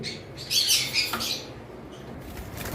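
Pied cockatiels in a cage give a short burst of high, bright chirps and flutter their wings close by, followed by a quieter stretch of low background noise.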